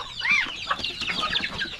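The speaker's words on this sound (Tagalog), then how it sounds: "Yun ang mga chicken tayo" Native farm chickens clucking close by, a few rising calls and short clucks repeating irregularly over a soft outdoor background.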